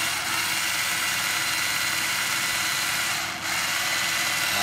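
An old 12V cordless drill runs steadily in hammer mode, giving a loud, continuous broadband buzz with a brief dip near the end and no talk.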